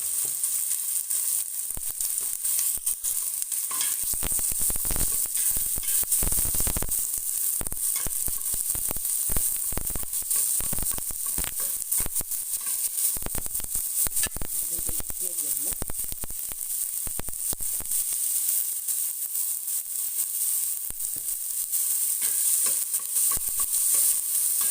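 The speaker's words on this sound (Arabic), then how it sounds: "نخليو البصيله حتى تتحمر، ونبقاو نقلبو في هاد البصله حتى تتحمر لنا." Thinly sliced onion sizzles steadily in hot oil in a pan, with bursts of scraping and stirring strokes coming and going over the constant frying hiss.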